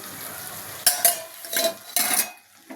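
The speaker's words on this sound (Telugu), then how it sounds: "దీన్ని మంచిగా ఇందులో మిక్స్ చేద్దాం." Boiled Maggi noodles are stirred into fried masala in a pan, with a low sizzle and a few bursts of metal spoon scraping and clinking against the pan, close and without speech.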